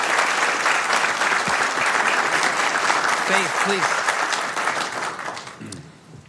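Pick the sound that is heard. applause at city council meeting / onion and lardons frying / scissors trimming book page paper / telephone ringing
applause at city council meeting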